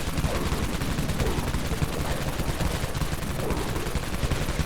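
A minigun in Dead Frontier fires continuously in a dense, rattling stream of rapid shots, loud and unbroken from start to finish.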